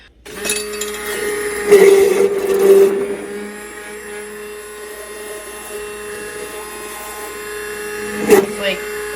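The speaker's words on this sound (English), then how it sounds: "I actually just use my immersion blender" An immersion blender whirs with a steady motorized drone while making goat butter, rising louder in bursts early on, then settling into a continuous hum with a brief surge near the end.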